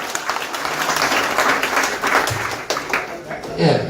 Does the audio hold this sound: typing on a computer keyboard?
no